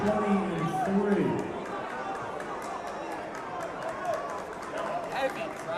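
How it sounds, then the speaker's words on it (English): Busy gym crowd at a high school basketball game between St. Peter's and North Bergen, a broad murmur of chatter with scattered shouts and sneaker squeaks, with a voice talking over it near the start. "Heavy crowd."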